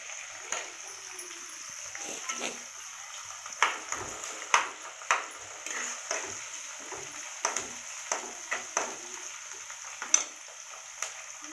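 Onions sautéing in a pan with a bit of salt, a low continuous sizzle broken by repeated sharp clicks and taps of a spoon on the pan, close and steady throughout.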